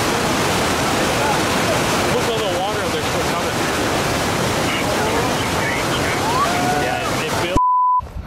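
The Waimea River rushes and roars as it nears breaking out into the ocean, a steady loud broadband wash of water with faint chirps above it, ending abruptly with a brief electronic tone.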